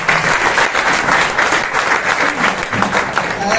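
A large crowd at an RCM business seminar in hot weather applauds the pin achievers with loud, continuous clapping from many hands, steady across the moment, a voice faintly audible beneath.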